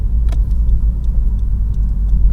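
A manual-transmission car engine holds a steady low idle-like rumble, close and fairly loud, with small clicks above it.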